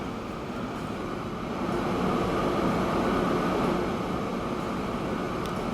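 Electric train accelerating in the video game Transport Fever 2, a steady broadband rumble and hum that swells slightly as it gets up to speed, with no talk.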